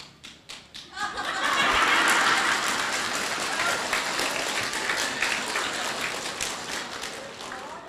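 Audience at a Buddhist dharma talk bursts into applause after a few scattered claps, building to dense, sustained clapping that stays steady and fairly close for several seconds.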